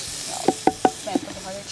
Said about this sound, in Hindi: एक पुदीने का तड़का लगना ही चाहिए